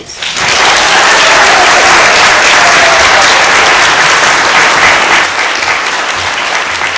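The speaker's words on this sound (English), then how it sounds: "So please join me in giving our cast and crew one more huge round of applause." Loud, sustained applause from an audience saluting the cast and crew of a youth pageant, a dense, steady roar of many hands that holds strong for several seconds before easing slightly near the end.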